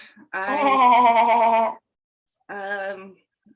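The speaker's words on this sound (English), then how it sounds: "Hey, sheep." A sheep bleating twice up close, a long wavering harmonic cry followed by a shorter second bleat after a pause, loud and clear with no talk over it.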